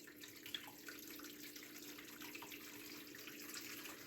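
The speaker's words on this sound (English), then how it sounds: "So now I'm going to use hot water in here." Hot water running from a kitchen tap as a steady, faint hiss of flowing water, continuous and even with no voices over it.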